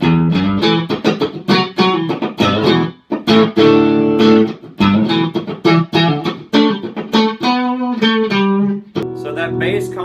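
A Reverend Double Agent OG electric guitar with its bass turned all the way down plays a loud, bright, driven riff of chords and single notes, strummed in quick rhythmic bursts with short pauses.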